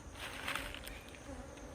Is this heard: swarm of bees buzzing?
yes